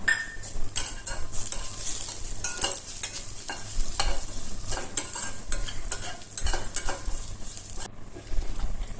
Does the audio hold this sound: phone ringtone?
no